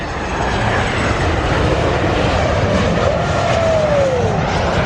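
A steady, broad engine roar from an airplane passing overhead, loud and unbroken, with a faint whine gliding downward near the end.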